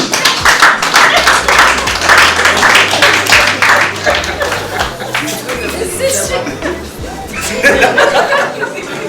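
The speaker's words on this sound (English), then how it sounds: "A round of applause once again." Audience applause at a ceremony for a Girls Go-To-Sea campaign, a dense, steady patter of many hands clapping that runs the whole stretch, with chatter and a low hum underneath and a brief lull partway through.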